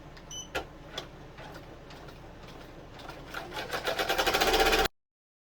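An embroidery machine stitching an in-the-hoop coaster: a few scattered clicks, then a rapid mechanical needle rhythm that builds louder and faster before stopping abruptly.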